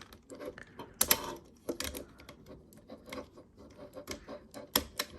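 Takara Tomy Transformers Generation Selects Volcanicus toy with a TDW TCW-06T upgrade kit: a series of small, crisp plastic clicks and ratcheting snaps as joints are worked, close and fairly quiet.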